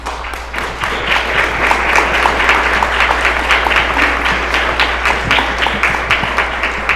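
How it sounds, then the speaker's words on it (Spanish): A seated audience at a presentation gives a steady round of applause, dense clapping that holds at an even level for several seconds. "Yo les voy a pedir que no me aplaudan porque no he hecho nada."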